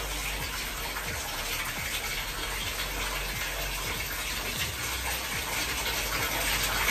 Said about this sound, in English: I'm going to start my bath water.